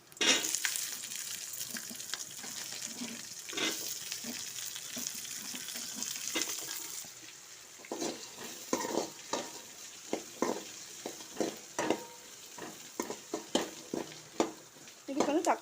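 Small onions and dried chillies sauté in a pan for Erode Pallipalaiyam chicken, giving a steady sizzle with frequent scraping stirs and clinks of a utensil. The sizzle fades slightly midway while the stirring continues rhythmically to the end.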